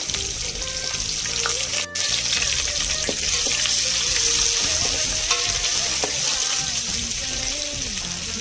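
Sliced onion and green chilies sizzle and fry steadily in oil with masala in a pan for a vegetable kurma, a continuous close crackle broken by occasional stirring scrapes, with no voices.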